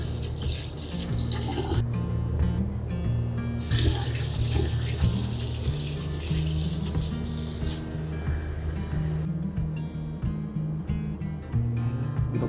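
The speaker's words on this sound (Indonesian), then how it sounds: "sambil cuci tangan di sini" A tap runs steadily into a sink as hands are washed in the toilet of a lake ferry, a constant close hiss over the deep, droning hum of the boat's engine.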